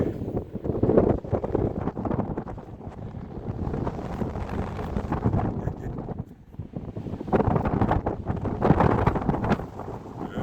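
Strong gusts of wind buffet the microphone at the Morenci copper mine in Arizona, with loud, rumbling surges that ease briefly midway and then roar back.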